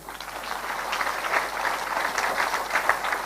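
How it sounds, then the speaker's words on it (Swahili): Crowd at an outdoor Kenyan political rally applauding in a steady, dense wash of clapping that holds for a few seconds with no voice over it. "Kanano, pigieni ye makofi."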